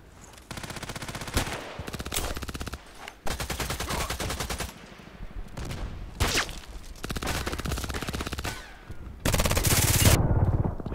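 Loud, close automatic gunfire from the online shooter game Contract Wars, with long sustained bursts and brief pauses, and a final dense burst near the end.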